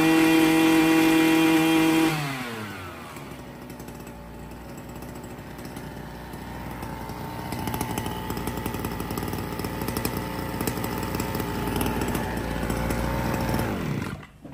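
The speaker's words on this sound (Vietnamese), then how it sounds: "Anh em nào muốn cần một chiếc máy cắt cỏ hàng lòng lớn để chuyên đi phát thuê thì múc ngay con này về mà xài" A large brush cutter engine runs loudly at high revs, then drops to a lower idle after a couple of seconds. It climbs back up to a strong buzzing whine before cutting off at the end.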